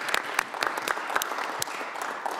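Applause from an Internet Governance Forum 2019 audience greeting someone entering the room, a short burst of scattered, moderately close clapping.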